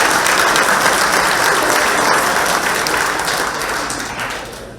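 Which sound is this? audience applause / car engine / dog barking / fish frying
audience applause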